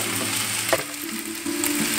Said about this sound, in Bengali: এখন আমি সিদ্ধ করে রাখা 10 মিনিটে যে রাইসটা রান্না করলাম এটা ঢেলে দিলাম।